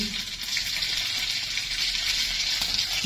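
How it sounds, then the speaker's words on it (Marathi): Steady, dense sizzle of mustard seeds crackling in hot oil for a tempering, with cumin and sesame seeds, continuous and close, with no voices. "तेल तापले तर त्यात मी आता फोडणी करून घेते मोहरी"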